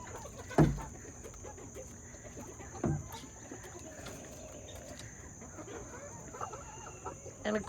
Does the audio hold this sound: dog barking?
no